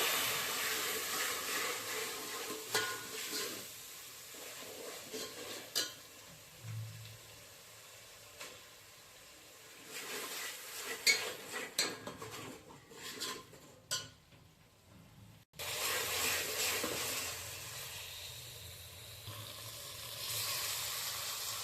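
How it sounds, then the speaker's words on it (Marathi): Mutton masala sautéing in hot oil sizzles in a pan, a broad hiss rising and fading as the spoon stirs, with occasional clinks of metal against the pot and brief quieter pauses. "आता मला तेलामध्ये परतून घ्यायचं आहे, तेल सुटेपर्यंत"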